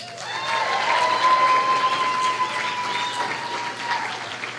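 An audience gives a round of applause for a group of female performers, sustained dense clapping from many people at a steady loud level with light cheering and a faint held tone beneath.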